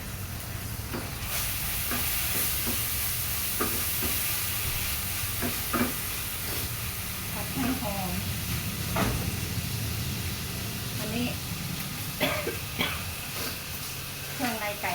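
Chicken offal and curry paste sizzle loudly in a hot pan while a utensil scrapes and taps against it at irregular moments, with a voice speaking now and then.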